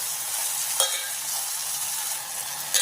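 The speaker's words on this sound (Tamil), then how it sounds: "இதில் நம்ம இஞ்சி பூண்டு சேர்த்துக்கலாம் சேர்த்துக்கிட்டு இதில் நல்லா ப்ரௌனாக ஆகிற வரைக்கும் நம்ம இதை வதக்கிப்போம்" Ginger and garlic sauté in hot oil for a Hyderabad green chicken gravy, a bright, dense, continuous sizzle close up, with two quick spatula scrapes against the pan and no speech.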